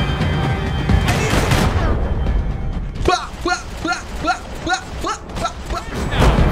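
Gunfire in the video game Max Payne 3: a loud, dense clatter, then a rapid run of sharp, evenly spaced shots close by, ringing out one after another over low rumbling.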